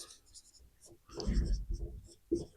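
Pen scratching out lesson notes during a Class 6 geography lesson, faint strokes at first, then louder, busier writing with short pauses between bursts.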